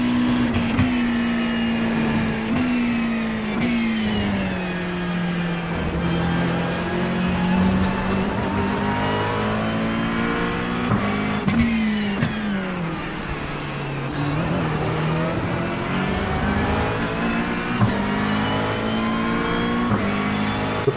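A Porsche GT3 race car engine at Le Mans in the iRacing game, a loud, steady, high-pitched whine with pitch rising and falling through gear changes and braking, heard continuously without talk.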